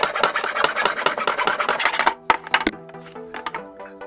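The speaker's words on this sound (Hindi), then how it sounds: "हम आरी की मदद से जल्दी से काट लेंगे" A small, cheap hand saw rasps back and forth through wood in steady, loud strokes, then stops, followed by a few sharp knocks and ringing taps as the piece is handled, while making a homemade banjo.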